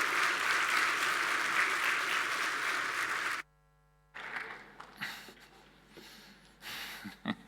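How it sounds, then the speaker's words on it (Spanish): Audience applause at a leadership conference session in Chile, dense and steady for about three seconds before cutting out, followed by scattered room noise and faint talk. "Quiero invitar a este escenario con un fuerte aplauso de ustedes a Roberto Musso, presidente de Digeo, con su"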